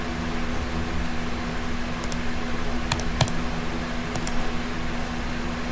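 A computer keyboard struck a few times in quick bursts, sharp clicks and clatters rising over a steady fan-like hum in a quiet room.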